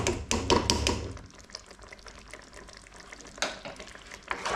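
A spoon stirs tamarind paste into a Kerala-style fish curry made with panga (basa) fish steaks, giving a few loud scraping clatters at the start, then quieter intermittent stirring and bubbling, close up with no talk.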